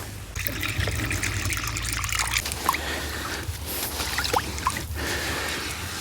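Water sloshes and trickles steadily inside a new kazan cooking pot as it is rinsed, a close, continuous splashing with a few sharper drips and swirls and no talking.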